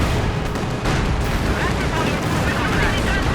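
Strafing-run gunfire in the Company of Heroes 2 video game, a dense, continuous barrage of rapid shots and explosions, loud and unbroken, with commentary speech faintly underneath.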